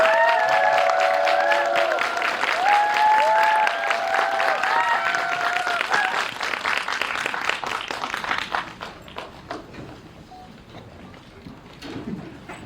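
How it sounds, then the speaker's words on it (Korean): A cinema audience at a stage greeting for a Korean film welcomes the director and an actor with sustained applause and high cheers, and the clapping thins out and fades toward the end. "큰 박수로 강현철 감독님과 안재홍 배우 맞이하겠습니다"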